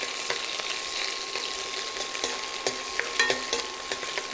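Garlic and green chilies sizzle and fry in a hot pan over lowered heat, a steady close hiss with occasional pops and stirring scrapes throughout.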